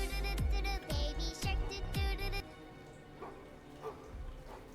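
A distressed dog gives several loud yelping barks and whimpers in the first half, then quieter whines trail off over a low background hum.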